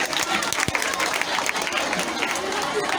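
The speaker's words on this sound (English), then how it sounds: "Let's clap for the principal and his team, please." Audience applause at a school farewell and awards ceremony, clapping for the principal and his team; a steady wash of hand claps and crowd noise throughout, with voices mixed in.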